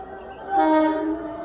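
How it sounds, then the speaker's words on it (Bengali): A train on the Howrah–Amta line pulls into Danshi station. A steady, fairly loud horn-like tone swells in partway through and holds for about a second over a low rumble. "হাওড়া থেকে আমতার দিকে ট্রেন আসছে"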